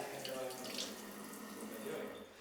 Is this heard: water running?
yes